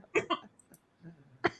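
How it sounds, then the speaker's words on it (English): A person coughs close to the microphone: two quick coughs, a faint throat sound, then one more sharp cough, fairly quiet overall. "I was coughing because I couldn't breathe."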